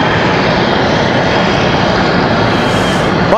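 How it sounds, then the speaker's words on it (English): A Southwest Boeing 737 MAX 8 departs Raleigh-Durham airport for Fort Lauderdale, its engines giving a loud, continuous broadband roar close by. "So Southwest 4846, they're off to Fort Lauderdale. That's 737 MAX 8."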